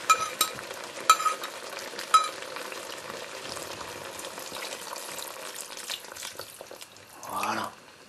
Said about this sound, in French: Alors que je vais remuer avant,